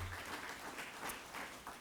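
Faint, distant applause from an audience for a photographer at a small-business award event, a soft continuous wash of clapping without distinct voices.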